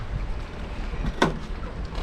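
Strong wind sweeps over the sea around a fishing raft, a steady blustery rush with heavy microphone buffeting. One short sharp knock is heard partway through.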